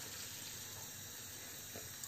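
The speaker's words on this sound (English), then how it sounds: "Add some water." Steady rushing water pours continuously into a saucepan holding corn, close by with no voices.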